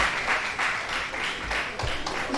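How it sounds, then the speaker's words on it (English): Brief applause from a conference audience at a coconut industry event, uneven bursts of clapping over about two seconds, fairly close. "a round of applause again for our TBC"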